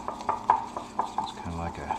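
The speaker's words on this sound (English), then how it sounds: "Usually what I do also is stir this up, get this mixed up real good." A utensil stirs ramen in a pot of boiling water, giving several short, light clinks and scrapes against the pot at an uneven rhythm, fairly quiet and close, with no talking.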